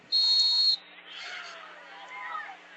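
A referee's whistle gives one sharp, loud blast at a high school football game before a punt, followed by crowd murmur and distant chatter in the stands.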